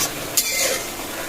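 Wild greens cooking in a pan as a spoon stirs them, with a soft continuous sizzle and one sharp scrape of utensil against the pan early on, close and fairly quiet, no talking.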